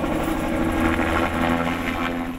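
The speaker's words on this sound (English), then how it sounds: "The sounds of hard work and chopper blades are deafening." A helicopter's rotor blades thump in a fast, steady rhythm beneath a loud engine whine, close and continuous throughout, during a Christmas tree harvest.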